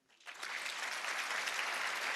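Comedy show audience applause, a crowd's clapping swelling in quickly and holding as a steady, even wash of many hands, moderately loud and without talk.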